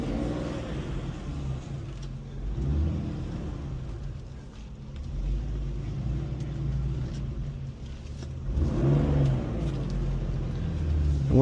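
A Porsche 911 of the 993 generation rumbles from inside the cabin, its engine building revs and easing off as the car pulls away, a low steady drone swelling louder near the end.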